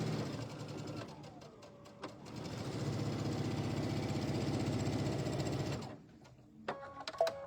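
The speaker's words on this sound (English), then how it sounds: "So I am stitching each side of the drawn diagonal line." Sewing machine stitching along a drawn diagonal line on quilt patchwork, a steady rapid mechanical chatter running loud and close for several seconds before stopping, followed by a few small clicks and handling sounds.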